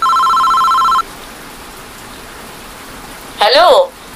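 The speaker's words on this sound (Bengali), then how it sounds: "ফোন বেজে ওঠে" An electronic telephone rings in a steady tone for about a second, then falls silent; a short warbling synthetic chirp follows near the end, all in a quiet room with no talking.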